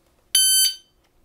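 A shot timer for shooting practice, set to medium volume, gives a single loud electronic beep about half a second long, a harsh piercing tone with a sharp start, then quiet.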